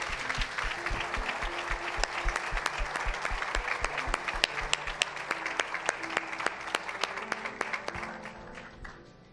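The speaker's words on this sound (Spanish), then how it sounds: "We'd like to give him an applause." An audience at a church gathering applauds a married couple with sustained, fairly loud clapping and distinct sharp individual claps, fading out toward the end.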